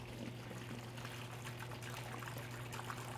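Water pours in a steady, continuous stream, faint, with a constant low hum underneath.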